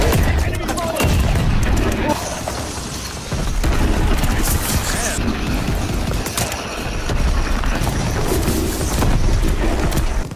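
Video game gunfire in a fast-paced shooter match, dense loud bursts of automatic fire and booms that come in waves throughout, with voices talking over the shooting.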